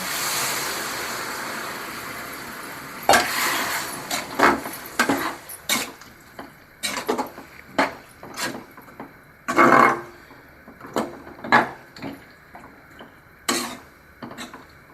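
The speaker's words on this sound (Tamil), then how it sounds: "நான் இன்றைக்கி ஒரு சொம்பு தண்ணி எடுத்துருக்கிறேன்," Water pours steadily in a rushing stream into a pot for a few seconds while making kara kuzhambu, a Tamil tamarind curry, then gives way to scattered clanks and knocks of metal cookware.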